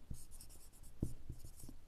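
Pen scratching out a Class 7 percentage math solution on paper, a few short close scrapes and taps in quick irregular strokes, quiet with no talk.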